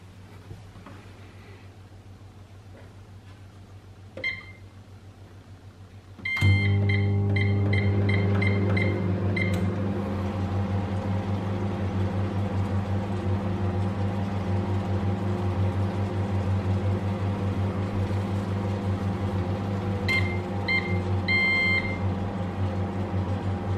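A Hotpoint MWH2422MB microwave grill cooking vegetables starts up with a steady, loud low hum after a quiet stretch, with a few short beeps near the start and again near the end. The hum runs on evenly without a break.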